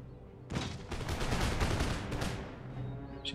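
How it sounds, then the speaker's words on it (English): Canister shot artillery volleys in Empire Total War, a dense roar of cannon and massed musket fire bursting in around half a second and sustained loudly through the clip before easing off. "She canister shot the 15th regiment. Good hits."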